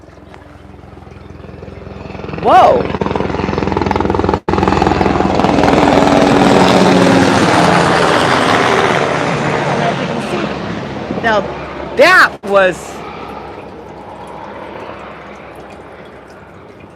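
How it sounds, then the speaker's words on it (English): Military helicopters fly low over a Southern California bird garden, their rotor roar swelling loud and close, holding steady, then fading as they pass. Brief exclamations and a few bird chirps come through over the noise. "there's been a lot of military helicopters flying around"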